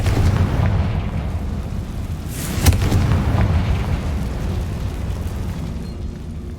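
A Confringo fire spell from Hogwarts Legacy bursts with a sharp explosive crack partway through, set against a steady rumbling, crackling roar of combat noise that continues before and after the blast.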